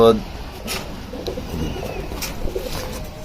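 Racing pigeons coo softly in low, repeated murmurs in a pigeon loft, with faint rustling and a brief bump at the start.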